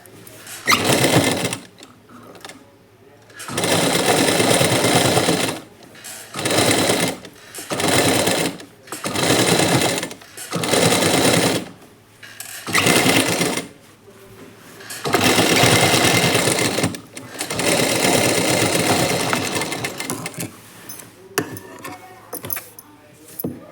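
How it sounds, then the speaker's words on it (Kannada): A sewing machine runs in repeated bursts of stitching as the side seams of a nightie are sewn, with short pauses between runs and no voices. "ಎರಡು ಸೈಡ್ ಕೂಡ ನೀಟಾಗಿ ಎರಡೆರಡು ಹೊಲಿಗೆ ಬರೋ ಥರ ಸ್ಟಿಚ್ ಅನ್ನೋದನ್ನು ಹಾಕ್ಕೊಳ್ಳಿ"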